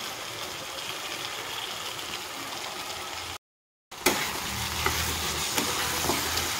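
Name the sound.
spice paste being stir-fried in a pan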